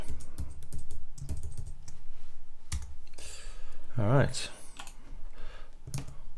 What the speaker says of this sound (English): I'm just getting rid of the fake bullet points and then hitting a return on my keyboard